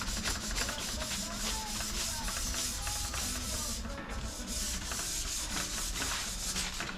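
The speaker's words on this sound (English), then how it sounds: "Scuff pad is just a light pass over it, make sure we got everything." A scuff pad rubs briskly across a car's new front end in quick, repeated scratchy strokes. The close, fairly quiet rasping runs continuously with a brief dip midway.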